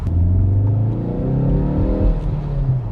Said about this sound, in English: now in sport mode, you can definitely hear the engine and the exhaust a little bit more.